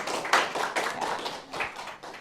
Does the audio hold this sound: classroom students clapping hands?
yes